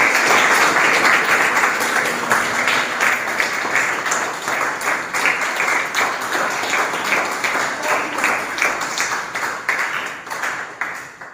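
Classroom of school students clapping together at a maths seminar, loud dense applause that starts strong and gradually thins and fades toward the end, with no voices over it.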